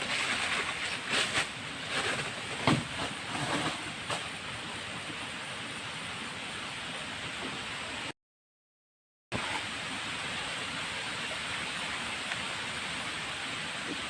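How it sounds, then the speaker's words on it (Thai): Rain begins falling outdoors beside the water on a fishing trip, a steady broad hiss with a few soft taps early on, broken by a brief gap of silence. "ฝนก็ลงเม็ดมาแล้ว"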